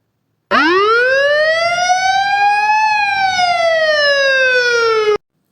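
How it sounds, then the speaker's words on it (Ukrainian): A loud electronic ambulance siren wails steadily nearby, its pitch rising, holding briefly, then sliding slowly down, heard alone. "Швидка допомога по місту летить, і синій сигнал на машині горить, сирена гуде"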